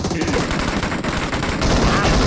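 Dense automatic gunfire from the PUBG video game, loud and continuous, with rapid shots running together under faint voices.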